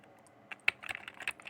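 Quiet typing on a computer keyboard while entering inventory item names in software, a short run of soft, irregular key clicks heard alone.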